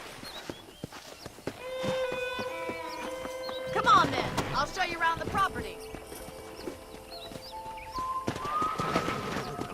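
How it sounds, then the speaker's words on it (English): Horse hooves clip-clopping in Red Dead Redemption, a steady walking rhythm on the ground with a whinny and faint birdsong around it, while someone speaks briefly over the hoofbeats. "let's see if you can still ride a horse"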